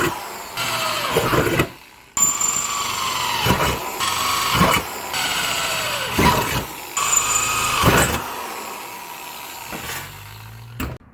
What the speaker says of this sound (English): Before we try welding anything, we need to drill the holes for the spot welds.